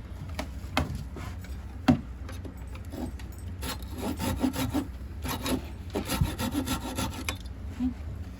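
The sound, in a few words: hand sanding wood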